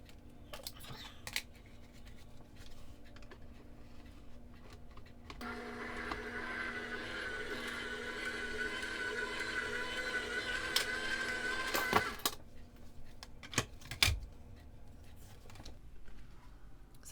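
A Gemini Junior machine rolls paper through a script embossing folder, producing a steady mechanical whir for several seconds that stops abruptly, with quieter handling clicks before and after.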